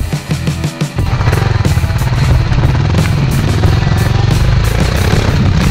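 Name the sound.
motorcycle engine while riding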